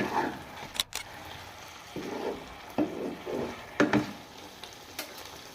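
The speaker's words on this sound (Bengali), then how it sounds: "এবার ফুলকপিগুলো দিয়ে ভালোভাবে টস করে নিতে হবে" Cauliflower tossed in a pan coated with soy sauce and tomato sauce: soft sizzling with scraping stirs and a few sharp clacks of a utensil against the pan, moderately close.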